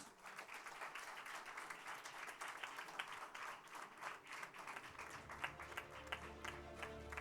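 Audience applause for a lecturer at a campus graduation ceremony, a steady wash of many hands clapping at moderate level throughout, with a low hum entering near the end.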